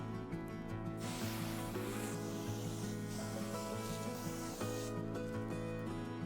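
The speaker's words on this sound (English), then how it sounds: "completely wet the wood down with a hose" A steady rushing hiss of water from a hose spraying onto teak wood, with a constant mechanical hum underneath throughout.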